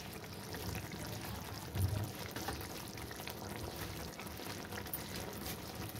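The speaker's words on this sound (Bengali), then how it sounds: "একটু কাঁচা সর্ষের তেল দিয়ে দিলাম।" Raw mustard oil poured over a simmering fish curry with coriander leaves, giving a steady sizzle and bubbling hiss from start to end, close and even, with one brief louder splash in the middle and no talking.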